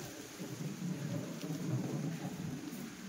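Faint thunder rumbles low and continuous during rain, distant and soft, with no talk.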